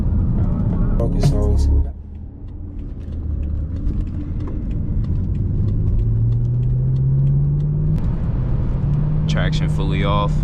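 A 600hp BMW M5 engine pulls in gear, a deep close rumble with a rising drone as revs climb, heard between brief bursts of someone talking.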